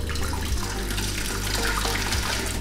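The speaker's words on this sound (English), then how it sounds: "I have hot boiling water" Hot boiling water being poured in a kitchen for making fufu with cassava, a steady, continuous rushing splash close by with a low steady hum underneath, heard alone without talk.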